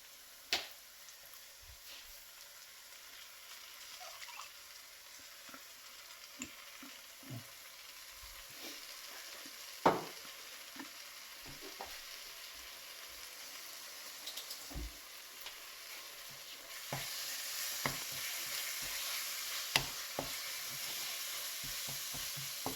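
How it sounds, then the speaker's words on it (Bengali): Ginger garlic paste fries with browned onions in a pan, a faint, steady sizzle with scattered soft clicks and pops that grows louder toward the end. "পেঁয়াজ ব্রাউন করে ভাজা হয়ে গেছে, আদা রসুনের পেস্ট করে রেখেছিলাম, পুরোটা দিয়ে দেবো এখন।"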